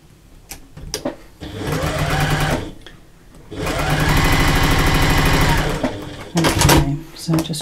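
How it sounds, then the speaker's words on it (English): Sewing machine stitching the curved side seam of a fabric belt pouch, right sides together, in two long steady runs of rapid needle strokes separated by pauses with handling noise and a quiet voice. "now you're stitching that curvy piece together down that side seam"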